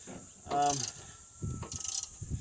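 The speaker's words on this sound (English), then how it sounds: "as you can tell, I'm doing everything with wrenches and stuff" Hand wrenches click and ratchet on metal parts while a Jeep is being assembled, with a few close ratcheting bursts and clanks separated by quieter gaps.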